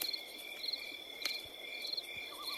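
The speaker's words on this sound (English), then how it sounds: "only the mocking crickets talked back" Crickets chirp at night in pulsing, high trilling bursts that repeat steadily over a quiet outdoor background, with no voices.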